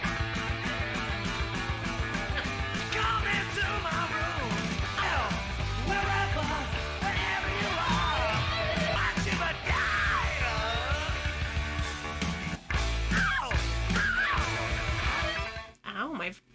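A song plays loudly and continuously, with heavy metal guitars, pounding drums and bass under screamed, shouted vocals, then it stops near the end.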